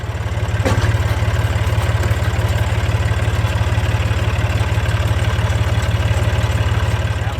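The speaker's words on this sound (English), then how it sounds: "I'll hook up the PTO shaft here, let it run for a minute just to make sure the grease get into all those joints." A tractor idles steadily while turning a newly greased hay rake's PTO shaft, a loud, even low rumble with a fast regular pulse and faint mechanical rattle throughout, no voices.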